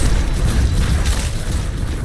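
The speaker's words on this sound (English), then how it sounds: "I like the corpse explosion." A corpse explosion skill goes off in Diablo III: a loud, deep boom that rolls on for about two seconds with a heavy low rumble.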